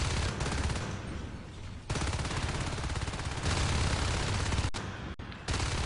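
Gunfire in the multiplayer shooter match, rapid sustained bursts of automatic shots at a steady rhythm, loud and dense, with brief gaps between volleys.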